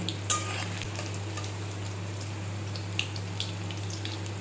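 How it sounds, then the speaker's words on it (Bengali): Bay leaf, dried red chilli, nutmeg, mace, cinnamon and cumin seeds fry in hot oil with a steady close sizzle, punctuated by a few light metallic clinks of utensils against the pan. "ফোড়নে দিয়ে দিলাম তেজপাতা শুকনো লঙ্কা জায়ফল একটি জৈত্রী দিয়েছি আর দারচিনি জিরে ফোড়ন দিলাম"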